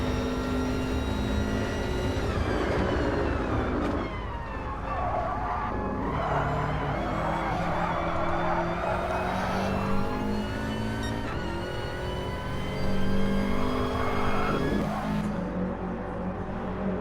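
A Subaru race car in a racing game on the Dragon Trail circuit powers through a chicane, its engine loud and close, pitch sweeping up and down with shifts and throttle changes, with tyre squeal and no voices.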